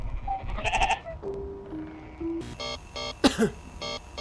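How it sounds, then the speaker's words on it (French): Sheep bleating in the game Amanda the Adventure: several wavering bleats from a flock, close and fairly loud, some overlapping, with short musical tones in between. "Look at the nice sheep family. All the sheep are right where they belong."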